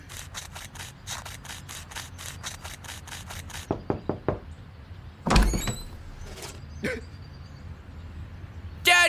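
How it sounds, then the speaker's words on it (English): Door knocks and door sounds in an Aqua Teen Hunger Force cartoon episode: a quick series of sharp knocks, then a louder thud and scattered clatter, with a burst of noise at the end. "Frylock's gonna answer the door"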